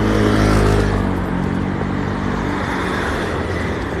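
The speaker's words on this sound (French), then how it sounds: "J'entends des moteurs" Car engines rev and rumble along a Monaco street near the Prince's Palace, a dense, loud motor drone that peaks early and then settles into steady traffic noise without talk.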